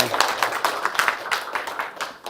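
A lecture audience in Korea claps together in a burst of steady applause, fairly close, with many overlapping hand claps and a few voices mixed in.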